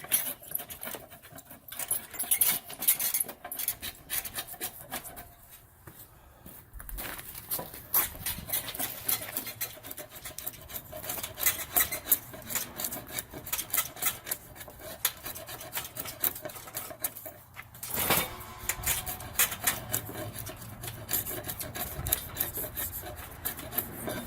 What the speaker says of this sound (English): Take this, which is a timber framer's slick or a shipbuilder's slick,